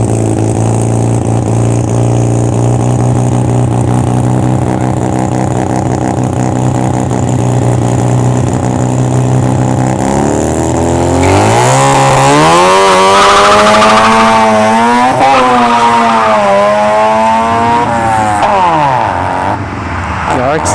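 A Mazda RX-7 rotary and a Pontiac Grand Am race at a drag strip, their loud engines droning and then revving and climbing in pitch as they launch, with a voice talking over them.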